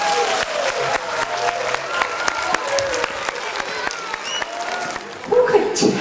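A classroom of schoolchildren claps for themselves on their hundredth day of school, a busy patter of many small hands that runs steadily with voices mixed in.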